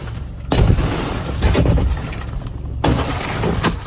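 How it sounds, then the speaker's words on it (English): Federal agents smash a car window in New Bedford, caught on a cell phone: several loud, harsh crashing blows with noisy clatter between them. "Cell phone video shows what appears to be federal agents smashing a car window in New Bedford on Monday."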